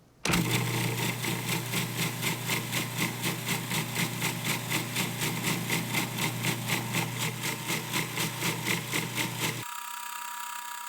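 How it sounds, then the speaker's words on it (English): A sealed food processor grinds granulated sugar with cornstarch into powdered sugar, a loud continuous motor whir with a fast, even pulsing flutter that cuts off near the end, leaving a quieter hum. "I made sure that I used my most sealed food processor"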